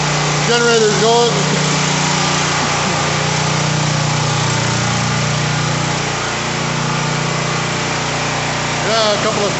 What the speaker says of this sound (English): Generator's going.